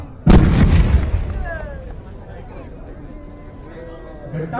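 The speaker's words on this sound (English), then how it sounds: "witness the 120mm motor in front of you firing a high explosive bomb" A 120mm mortar fires a high explosive bomb at close range: one sudden loud boom followed by a long rumbling decay, with people talking faintly in the background.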